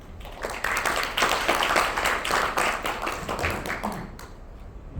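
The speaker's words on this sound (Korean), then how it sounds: "다시 한번 큰 박수 부탁드리겠습니다" Audience applause after a presentation at a conference: many hands clapping in a dense, steady burst lasting several seconds before thinning out at the end.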